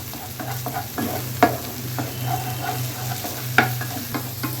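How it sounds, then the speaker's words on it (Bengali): Beef brain being stirred with spices in a pan for a spiced brain curry, the spoon scraping in a few distinct knocks over a steady low sizzle, close and moderately loud with no talking. "এটা দিয়ে এখন একটু মশলাটার সাথে এটাকে ভালো মতো নেড়ে নিতে হবে"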